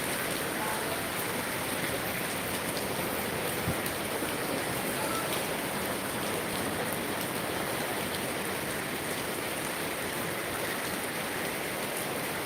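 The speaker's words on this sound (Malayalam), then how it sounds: "ഇങ്ങനെ മഴ ഉണ്ടാറുണ്ടോ ഒന്ന് പെയ്തു പോവില്ലേ" Heavy rain pours steadily throughout at a church festival, a dense, continuous hiss of drops drumming on surfaces, close and unbroken, with no voices.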